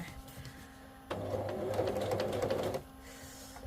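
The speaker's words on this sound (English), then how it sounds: "Try and get my sewing machine a bit more sturdy." A sewing machine runs in one steady burst of rapid stitching for about two seconds, starting and stopping abruptly against a quiet room.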